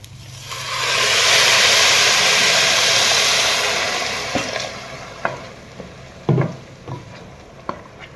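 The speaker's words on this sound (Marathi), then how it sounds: "आपण आता याच्यात गरम पाणी घालूया" A loud rushing hiss of hot water poured into a hot pan of cooking pavta bhaat, sizzling for a few seconds, then fading into scattered clinks and stirring sounds.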